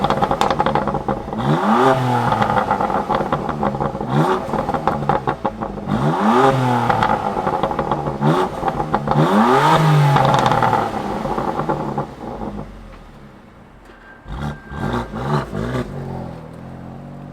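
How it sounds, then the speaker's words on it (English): A 2021 BMW M2 Competition engine is started and revved repeatedly, loud close blips rising and falling in three strong surges over a steady idle, then settling to a quieter idle with a few clicks and rattles. "Let's fire up this M2 Competition and hear what it sounds like."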